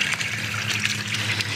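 A pond pump pushes water into a pressurized pond filter, giving a steady, close rushing and splashing flow, broadband and continuous without a break.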